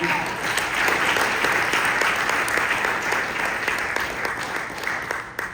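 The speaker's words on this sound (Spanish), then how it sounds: "Den un aplauso al Señor en el nombre de Jesucristo." Warm, sustained applause from a church congregation during a worship service, steady, dense clapping throughout, fairly close and loud, with no clear talk over it.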